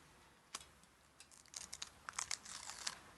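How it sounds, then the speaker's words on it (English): Paper backing peeled off fusible iron-on webbing on a fabric flower: a quiet series of short crinkling, crackling rips, sparse at first and then more frequent, close and faint with no talking. "I peel away the paper backing."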